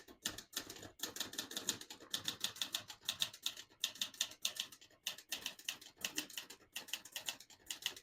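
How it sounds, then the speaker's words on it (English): Typing on a 1968 Olivetti Lettera 32 portable typewriter produces a close, crisp run of light key strikes in quick irregular bursts, separated by brief pauses, with no talking. "I have to type slow on this one because I'm not used to typing on such a light touch machine"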